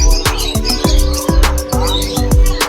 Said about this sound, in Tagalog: Mga dalang ibon.